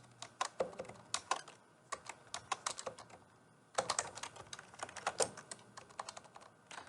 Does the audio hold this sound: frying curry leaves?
no